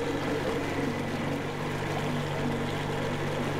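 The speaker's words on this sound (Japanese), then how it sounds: "エンジン音バカでかいから気をつけてね" A submarine engine in the Metro Exodus video game drones steadily and loudly, a dense low rumble with churning water texture that holds constant throughout.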